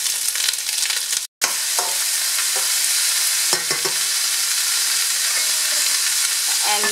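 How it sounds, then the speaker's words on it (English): Julienned broccoli stems and green beans sauté in a hot pan with a constant crackling sizzle, broken by a brief dropout and by occasional clinks and scrapes of stirring. "I'm going to saute that along with the green beans."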